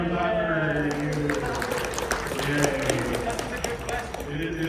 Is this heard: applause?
yes